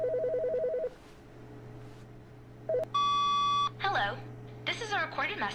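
A phone in the Mothley Parable video game rings with a bright electronic trill over a steady background tone, cutting in after some beeping, while a person talks nearby.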